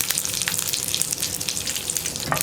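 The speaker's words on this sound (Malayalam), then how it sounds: "കടുക് പൊട്ടി കഴിയാറാകുമ്പോൾ ഒരു 3 വറ്റൽമുളകും 1 തണ്ട് കറിവേപ്പിലയും ചേർക്കാം" Mustard seeds, dried red chilies and curry leaves crackle and sizzle in hot oil in a pan, a steady dense hiss broken by sharp pops, close and fairly loud with no voices.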